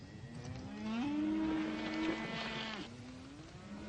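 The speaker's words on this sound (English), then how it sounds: "Those your cattle grazing over there?" Cattle grazing out on open ranch land give a long, rising moo that holds steady for about a second, then drops into a lower, drawn-out call. Both calls stand clear over a soft outdoor background, and nobody is talking.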